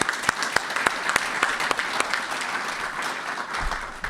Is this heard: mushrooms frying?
no